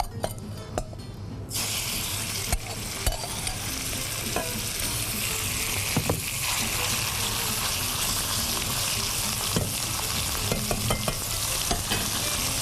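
Fresh chicken pieces cooking in a pan for cream of chicken soup. A loud, continuous sizzle and frying hiss swells as the pieces go in, with occasional stirring clatter over the steady crackle.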